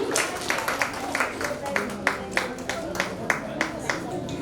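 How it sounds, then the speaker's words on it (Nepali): Audience clapping at a Nepali literary award ceremony, a scattered burst of applause mixed with someone speaking over it. "जोरदार ताली अघि पनि ताली पुगेन अलि"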